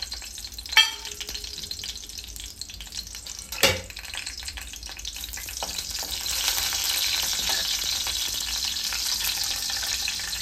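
Whole spices drop into hot oil for an Aagri chicken curry. A steady sizzle swells louder partway through, broken early by a couple of sharp clinks, with no one talking.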